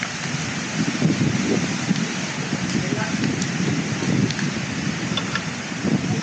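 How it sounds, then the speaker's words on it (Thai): Strong wind roars steadily at a mountain campsite on Doi Samer Dao at night, a loud continuous rushing noise buffeting the microphone with gusty swells. "ทุ่มครึ่งเองนะฟังเสียงลมเลย"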